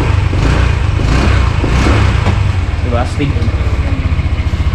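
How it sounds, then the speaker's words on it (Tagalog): Honda Click 125 scooter, a 2025 version 5, revving its engine briefly up close, loud throaty buzz rising and falling with a voice speaking over it. "Rev natin na konti guys."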